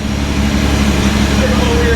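A Datsun 280Z barn find, back running after 18 years off the road, sounds a loud, close, steady engine note while voices are faintly present.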